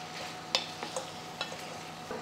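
Mushrooms frying in a pan with oil for a home mushroom masala, a steady close sizzle broken by a few light scraping stirs of the spatula.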